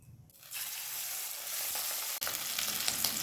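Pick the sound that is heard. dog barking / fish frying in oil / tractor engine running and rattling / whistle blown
fish frying in oil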